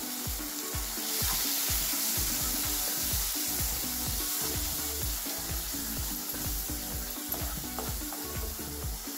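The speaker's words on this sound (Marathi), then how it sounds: "हे मसाले आता आपल्याला व्यवस्थित मिक्स करून घ्यायचे।" Coriander powder and turmeric being stirred into hot oil in a pan for an egg curry: a steady loud sizzle with rhythmic scraping strokes of a spoon, no talking.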